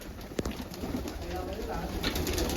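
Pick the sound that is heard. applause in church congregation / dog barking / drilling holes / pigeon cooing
pigeon cooing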